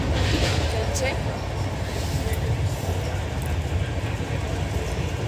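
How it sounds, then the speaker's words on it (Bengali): A train runs steadily with a low, continuous rumble and rhythmic rattling of the rail carriage, heard from inside at a moderate, even level. "তবে ট্রেন রানিং চলছে"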